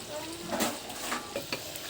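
Steady sizzling of dried fish frying in a pan, with brief louder bursts of crackle and spatter, close and moderately loud, no talking.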